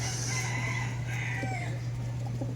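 A rooster crows at moderate distance over a steady low hum, with softer clucking and other fowl sounds in the background.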